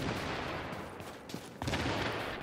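Gunfire in a video game during a manhunt mission: dense bursts of rapid shots and a heavy blast over a constant roar, loud and continuous, with no talking.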